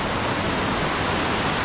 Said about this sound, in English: And we hear only the noise of the water.